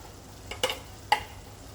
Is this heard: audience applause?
no